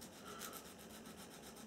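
Steady, close scratchy rubbing of a fine sanding pad against brass tube, a continuous light sanding stroke with no talk.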